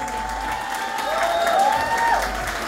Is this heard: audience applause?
yes